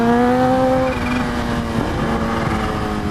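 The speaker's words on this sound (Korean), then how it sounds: "스로틀을 요 정도만 돌린 거거든요" Kawasaki Ninja H2 motorcycle accelerating on partial throttle, a loud, steady engine drone with rising harmonic tones holding close throughout, no talk.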